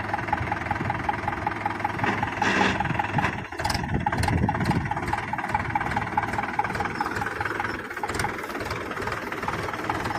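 A tractor engine runs steadily in a millet field during harvest, a continuous mid-pitched rumble that stays close and even throughout with no talking.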